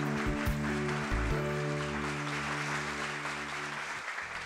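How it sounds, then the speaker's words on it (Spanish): Studio audience applauding contestant Alexandro after he wins a round on a youth quiz show, steady dense clapping mixed with a loud musical sting and sustained tones that fade near the end. "Alexandro, un aplauso para él."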